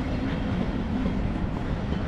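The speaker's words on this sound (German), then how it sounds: "Hier kommen die ganze Zeit irgendwelche Züge vorbei, die irgendwie Krach machen." Trains pass nearby with a steady low rumble of rolling rail cars, a constant mid-level drone without clear pauses, heard alone without talk.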